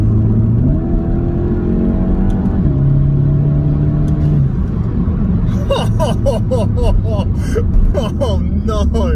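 Skoda Octavia vRS wagon with a TSI petrol engine pulling hard on kickdown, a loud close engine note climbing in pitch through shifts, then rapid clicking ticks over a steady drone.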